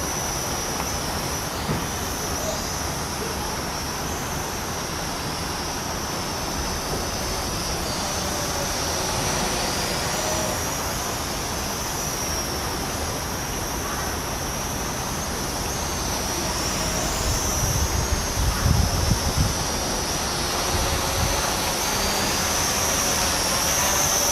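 SG900 drone flying against the wind at speed setting 3, a steady continuous rotor drone and wind roar that swells slightly louder near the end, with no talk.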